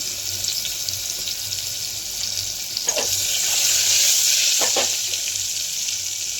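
Turmeric and chili powder frying in hot oil gives a steady, close sizzle and crackle, with a couple of brief louder spits partway through and no talk.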